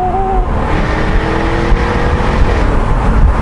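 A Jaguar F-Type Project 7 sports car engine roars close up under hard acceleration, its pitch sweeping through gear changes with a loud, continuous exhaust note and no talk over it.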